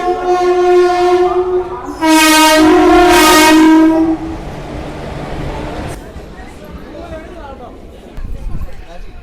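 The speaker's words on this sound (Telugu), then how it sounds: "సౌండ్ కూడా వస్తుంది ట్రైన్ది" A crowded Palani Express train near Tiruvannamalai sounds its horn in loud, sustained blasts, strongest in the middle. The horn then gives way to a steady rumble of the passing train, with people talking nearby.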